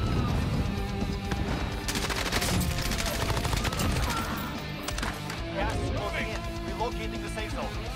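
Rapid MP5 submachine gun fire in Call of Duty Warzone rattles in bursts through a busy game mix, while a voice narrates over it.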